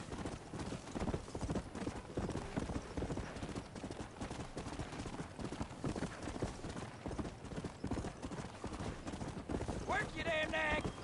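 Galloping horse hooves in the Western video game Red Dead Redemption, a fast steady clip-clop running through the whole stretch with a brief whinny near the end, while someone speaks over it.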